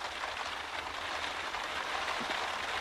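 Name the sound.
rain falling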